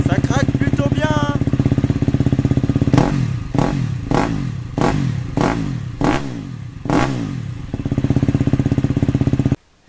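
A KTM motorcycle sits at a loud idle, then its engine is revved hard in six quick successive blips with crackling exhaust between them, before settling back to a steady idle and cutting off.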